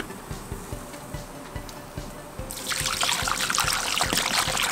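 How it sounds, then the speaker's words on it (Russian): Water poured from a container over chicken drumsticks in a cauldron outdoors, starting as a thin trickle and swelling into a steady splashing gush halfway through. "Высыпаем куриные голени и заливаем водой."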